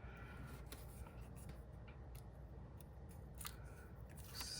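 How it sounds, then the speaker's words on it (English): A paper trimmer slices a sheet of paper in half for a journal page, making faint, close slicing and scraping strokes in short bursts over a quiet background. "I'll use probably like my paper trimmer, cut this in half"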